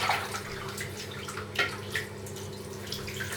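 Water splashes and drips while a freshly shaved scalp is rinsed of shaving foam, soft irregular splatters and trickles at close range with a faint steady background hum.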